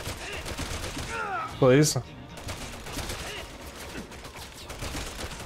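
Steady rattling gunfire in Resident Evil 6 crackles under game sound effects, with a brief spoken word in the middle and a shrill burst cutting through.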